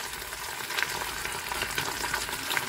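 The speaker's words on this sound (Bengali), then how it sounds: "এবার এই পিঠটা ভাজা হবে" Masala-coated pomfret fish sizzles and spits in hot oil in a pan after being flipped, a continuous crackling fry with small pops, close and alone.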